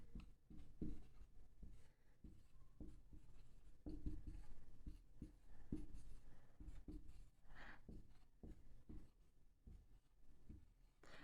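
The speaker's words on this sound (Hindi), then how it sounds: "मैं यहाँ पे रब करके यहाँ पे लिख रहा हूँ" Marker or chalk on a board during a chemistry lesson on converting benzoin to benzil, heard as close, scratchy strokes and taps in an irregular rhythm that runs throughout with no talk over it.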